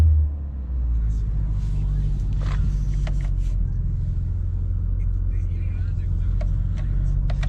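A Mercedes A-Class A200 idles steadily after an immobiliser is disarmed, giving a continuous low engine rumble at close range with a few faint clicks over it.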